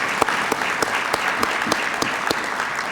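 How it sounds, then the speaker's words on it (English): At a trade conference, a crowd of attendees claps for the event's speakers, a full, even burst of applause with scattered louder claps popping through, continuing steadily without any speech. "let's give them a big applause."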